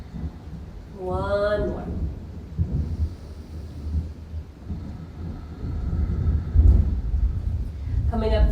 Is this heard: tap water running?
no